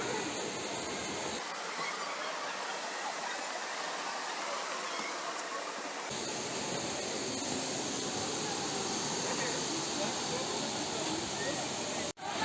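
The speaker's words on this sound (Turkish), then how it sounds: "Korma Kanyonu'nun sonu Uludağ Şelalesi'ne bağlandı." Waterfall at the end of Horma Canyon joining the Uludağ falls, a loud, constant broadband roar of rushing water that fills the whole scene without a break.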